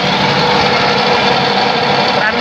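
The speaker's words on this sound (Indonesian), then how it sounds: "pam vakumnya, ini diputar dengan PTO ya, jadi ikut mesin ya" Engine-driven vacuum pump on a septic truck, powered through the transmission PTO, gives a steady, loud, even mechanical whir with an engine drone beneath, constant throughout.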